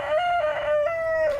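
An Augsburger rooster crows once, a long, clear, sustained call with a rising start and falling end, close and loud with no talk.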